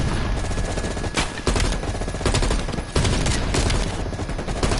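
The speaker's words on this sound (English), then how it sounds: "I don't know why this gun's shooting up like this." Sustained automatic gunfire in the Call of Duty Cold War campaign, loud and close, with rapid continuous shots and brief breaks between bursts.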